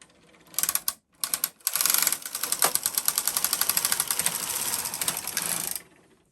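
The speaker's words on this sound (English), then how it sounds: "I'm going to set the carriage to KC and then knit one row across to select my needles" Brother KH-270 knitting machine carriage set to KC, pushed across one row to select needles: a dense mechanical clatter with rapid ratcheting clicks after a few short starts, running steadily for several seconds, close and alone.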